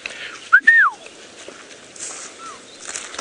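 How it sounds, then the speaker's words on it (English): A person out in the bush gives a short rising-and-falling whistle, then a fainter, softer one about two seconds later, over a quiet outdoor background with light rustling. "Little whistles in the bush, folks, is the way to communicate"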